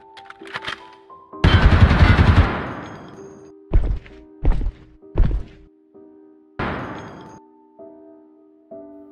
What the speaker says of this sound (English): Now, I had never actually heard a gunshot before, but they are loud.